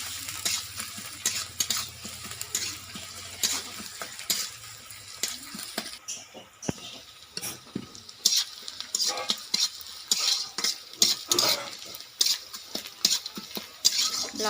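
A spoon stirs salted onions frying in a pan for singhi fish curry, making repeated scraping clinks over a soft, continuous sizzle, close and unaccompanied by speech.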